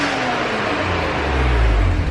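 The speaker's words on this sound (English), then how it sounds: "We'll give it a little rev just for funsies." A car engine revs up nearby, a low rumble that climbs in pitch and swells louder toward the end of a short burst, with no talking.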